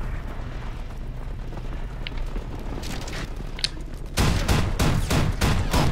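Gunfire in a zombies video game: a muffled rumble of distant action gives way to a loud burst of rapid repeated shots near the end.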